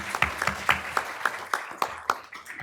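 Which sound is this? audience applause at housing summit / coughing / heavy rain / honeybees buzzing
audience applause at housing summit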